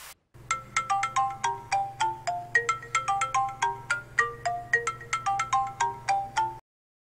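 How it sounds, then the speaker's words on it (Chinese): Mobile phone ringtone playing a bright, rapid electronic melody of repeated chiming notes over a faint steady hum, clear and close, running for about six seconds before stopping abruptly. "我的手机啊，迄通电话一接"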